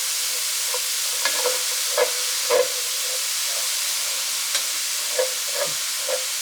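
Vegetables sauté and wilt in a skillet, a soft steady sizzle with scattered light clicks and scrapes of a utensil stirring them, close and fairly quiet.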